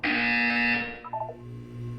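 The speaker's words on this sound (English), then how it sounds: "You will hear a buzzer." Buzzer in the Portal 2 video game, a single loud harsh buzz lasting under a second, then a few short electronic blips and a low hum.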